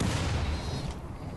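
Grenades go off in the video game RimWorld as a quick cluster of muffled, booming blasts rolling together over about a second, loud and close.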